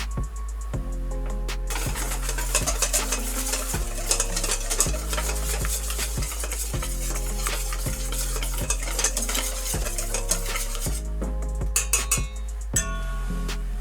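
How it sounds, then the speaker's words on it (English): Egg batter for tonkatsu being whisked in a bowl, a fast, continuous rhythmic clatter of utensil against dish, close and loud, with a few clinks toward the end. "First we make batter with egg."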